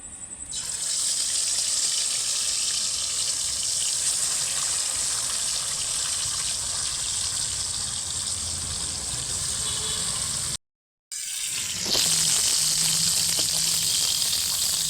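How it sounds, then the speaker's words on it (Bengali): Fish frying in hot oil in a pan for a Bengali fish curry, giving a loud, steady, close hiss of sizzling that runs almost unbroken for several seconds, briefly cutting out before resuming, with no talking. "এবার মাছটা ভেজে নেবো। আমি তেলটা ঢেলে দিচ্ছি।"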